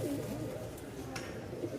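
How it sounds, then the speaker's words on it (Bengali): Rajshahi Giribaz pigeons at a Mirpur pigeon market give soft, low cooing calls, a faint continuous murmur with a brief rustle, heard close up and without talking. "কবুতরগুলো দেখেন কি পরিমাণ ছটপট করতেছে"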